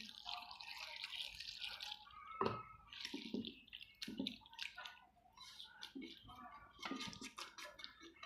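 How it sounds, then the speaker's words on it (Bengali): Water is poured into a pan of small fish, a quiet continuous splashing and dribbling with drips, close by and soft throughout. "একটু পানি দিয়ে দেব।"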